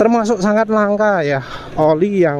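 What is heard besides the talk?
No everyday noise stands out behind the speech.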